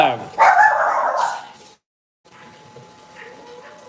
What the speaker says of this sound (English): my wife got all the dogs barking